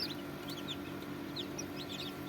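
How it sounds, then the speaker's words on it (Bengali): Tiger chicken chicks at a hatchery in Bakshiganj, Jamalpur, give continuous shrill peeping and light clucking nearby, layered over a steady droning background. "টাইগার মুরগির বাচ্চা আছে,"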